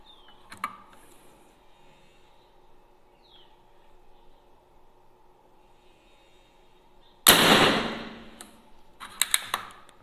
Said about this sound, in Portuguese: Já foram 12 disparos